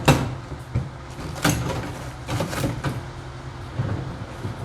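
A sanding drawer in an auto body shop is pulled open, giving a few short sliding thumps and rattles of the drawer and its contents at close range.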